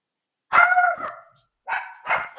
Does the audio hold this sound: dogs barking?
yes